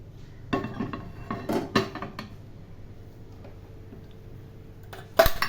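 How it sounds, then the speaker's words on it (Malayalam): A metal cooking pan is set onto a kitchen stove, giving a run of close clanks and scrapes early on, then a quiet stretch and one final louder clank. "ആദ്യം നമുക്ക് ഉണ്ടാക്കാനുള്ള ചട്ടി അടുപ്പത്ത് വയ്ക്കാം."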